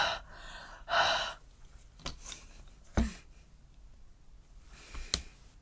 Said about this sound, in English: Whoever thought we'd be breathing on our stamps?